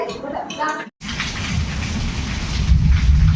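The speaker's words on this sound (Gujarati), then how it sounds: "અત્યારે અમારે મોરબીમાં સવારથી વરસાદ પડે છે. વીજળીના કડાકા ભડાકા એવા થાય" Heavy morning rain pours steadily in Morbi, a dense, loud wash that swells toward the end after a brief cut, with a low rumble of thunder mixed into the downpour.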